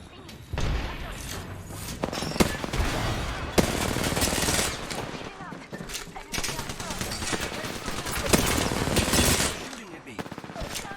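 Rapid gunfire from enemy soldiers in a shooter video game, bursts of automatic fire and sharp shots crackling loudly and nearly continuously throughout, with thuds mixed in and a voice talking over the shooting.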